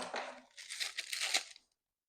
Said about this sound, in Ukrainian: поклала в пакетик, відріжу маленький-маленький куточок